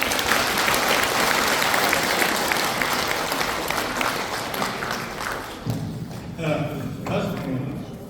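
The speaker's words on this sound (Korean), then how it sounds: "큰 박수 부탁드리겠습니다." A lecture audience at a patriotic humanities talk applauds warmly, dense clapping that fades after several seconds as a voice begins speaking over the room.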